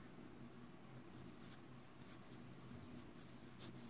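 Marker or pen writing on a board while solving a reasoning problem about calendar days, a steady faint scratching across the whole stretch with no talk.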